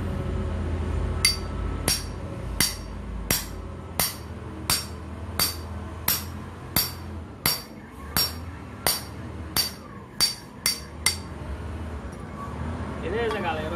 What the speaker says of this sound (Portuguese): Então vamos quebrar esse bloco aqui para nós, ver como é que vai dar esse concreto.